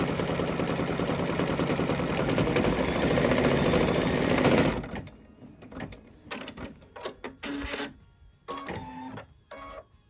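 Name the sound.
embroidery sewing machine stitching a quilt block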